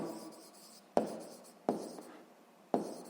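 A pen writing a math answer on paper, heard close and quiet, with three sharp taps as strokes begin, each followed by a short scratchy trail of writing.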